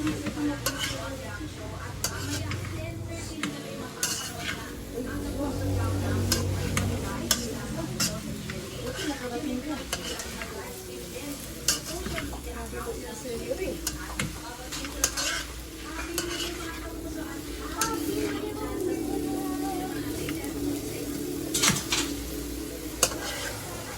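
Tuna sisig stirred in a pan with calamansi just added, a spoon scraping and clinking against the metal over a steady sizzle of frying, continuous and close, with soft background sounds throughout.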